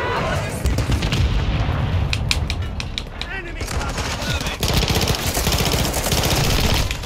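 A PDSW 528 submachine gun fires in Call of Duty: Modern Warfare 2 as rapid, close bursts of gunfire with booming impacts, mixed with a busy battle din and occasional voices over it.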